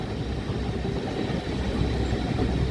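Small locomotive Judy on the Dean Forest Railway, a low steady engine rumble idling nearby with a continuous droning hum and no voices.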